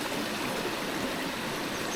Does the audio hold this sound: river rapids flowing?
yes